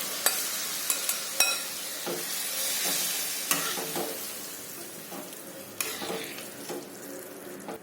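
Boiled rajma (kidney beans) stirred into fried masala in a pan gives a steady sizzle broken by sharp scraping spoon strokes and metallic knocks against the pan, close and without talk.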